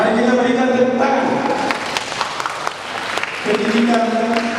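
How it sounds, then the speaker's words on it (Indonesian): Audience applause at a parish family seminar, a steady wash of clapping from a seated crowd lasting the whole stretch, with talk and other voices faintly mixed in beneath it. "Mari kita berikan tepuk tangan."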